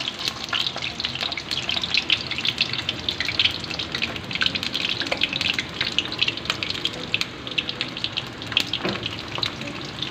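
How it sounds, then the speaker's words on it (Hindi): Rolls frying in hot oil for iftar, a close, steady crackling sizzle with dense popping, continuous and alone throughout. "जी हम लोग अब स्टार्ट कर रहे हैं रोल फ्राई करना।"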